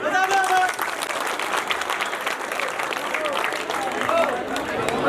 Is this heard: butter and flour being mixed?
no